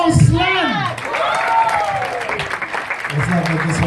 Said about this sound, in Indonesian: Tepukan yang paling hebat untuk saudara Roslan